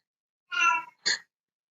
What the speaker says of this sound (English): Can you hear my friend's cat?